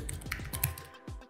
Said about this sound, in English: So Command D on my keyboard.